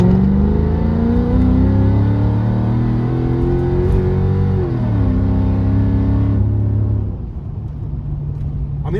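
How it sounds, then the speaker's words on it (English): A car with an MK Ultra SLR tune in agility mode accelerates at full throttle, the engine droning loud and rising steadily in pitch before easing off near the end. "I'm going to accelerate, and this is an agility mode"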